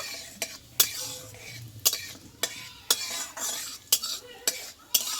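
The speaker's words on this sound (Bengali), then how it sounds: "জিরেটা আমি একটু তেলে ভালো করে ভেজে নেব" Whole cumin seeds frying in a spoonful of white oil in a wok, a soft sizzle beneath sharp, regular spatula taps and scrapes against the pan, about one every half second.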